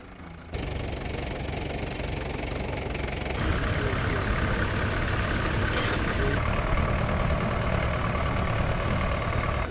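Vintage tractor engine running at the British Ploughing Championships 2010, a loud, steady, close rumble that grows fuller after a moment and keeps chugging evenly throughout.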